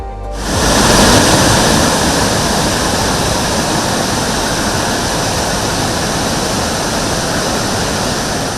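A steady, loud roar of water falling from a great height at a waterfall in Telangana, broadband and unbroken from start to finish, with no voices.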